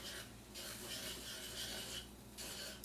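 A whisk scrapes rhythmically through a flour, olive oil and milk sauce in a pan for moussaka, giving soft rasping strokes in two or three bursts with short pauses, close and quiet.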